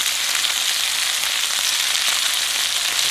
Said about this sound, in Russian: Видишь, она сильно шкварчит